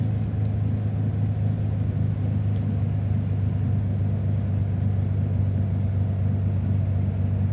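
Aircraft engine at full throttle in the flight simulator game MSFS 2024: a steady, dense low drone that holds an even loudness throughout, with no voices over it.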